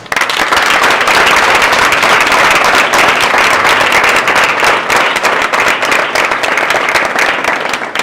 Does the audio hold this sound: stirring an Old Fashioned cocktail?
no